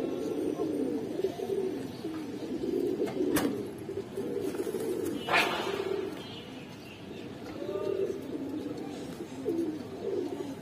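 Several Afsan, Bagha and Silver Giribaz pigeons in a Bangladeshi loft coo in steady, rolling phrases that repeat throughout, fairly close, with a brief sharp knock partway through and no voices.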